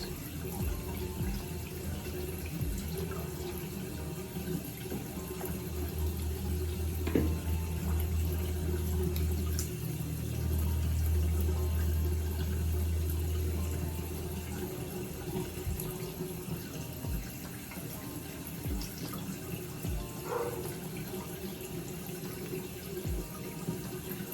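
Steady tap water runs into a sink during face washing with a skincare cleanser, a continuous close splashing hiss with slight shifts in flow and no talking.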